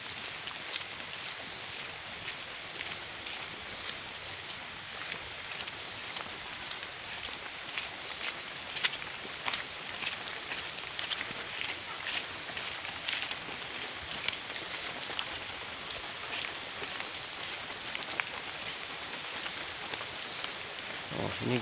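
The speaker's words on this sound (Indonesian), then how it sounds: "Hujannya belum berhenti, masih gerimis nih." A soft, steady hiss of light rain falls continuously, with faint patters and no voices.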